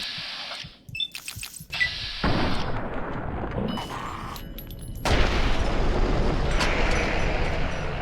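Gunfire in the Fallout: New Vegas video game, loud sharp bursts and booms breaking into a dense, sustained roar of shots and rumble that swells louder midway, with no talking.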